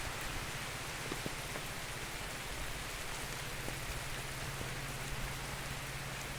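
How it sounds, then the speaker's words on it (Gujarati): Steady rain falling on surfaces, a constant dense hiss with occasional sharper drip ticks, unbroken throughout. "ત્યારે વરસાદ શરૂ છે જોઈ શકો છો"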